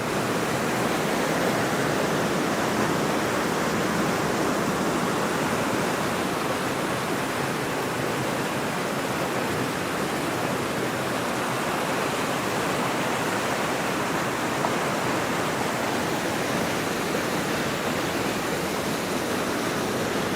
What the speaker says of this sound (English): Water's running pretty good here.